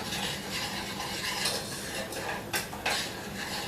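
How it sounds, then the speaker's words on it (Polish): A spoon stirs a sugar-free honey cake mixture sweetened with erythritol or xylitol in a bowl, producing close, steady scraping and clinking with a couple of sharper knocks near the end. "Całość musimy dokładnie wymieszać, żeby cukier się rozpuścił."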